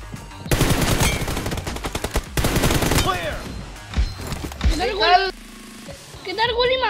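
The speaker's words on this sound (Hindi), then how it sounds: "किधर गोली मार रहा था ये? इधर मार रहा था गोली" Video game gunfire: rapid automatic bursts crackle loudly through the first few seconds, then give way to people talking over quieter game sounds.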